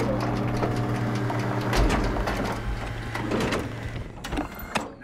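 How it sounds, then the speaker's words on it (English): A machine in the video game SOMA loads an assembled bullet with a steady mechanical whir and hum, broken by clunks and rattles, fairly close and with no talking. "You should be able to use the machines to load the bullet you assembled."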